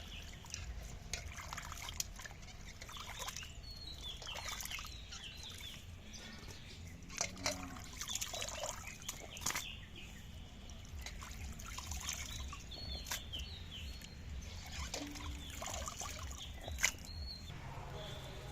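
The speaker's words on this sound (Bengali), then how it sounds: "একটু লবণ দিয়ে মাংসটা ধুয়ে নেব" Chicken meat is washed with water and a little salt, with close trickling, dripping and occasional splashing and sloshing that continues throughout at low level.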